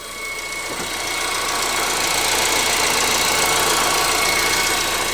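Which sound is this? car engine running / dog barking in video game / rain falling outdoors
car engine running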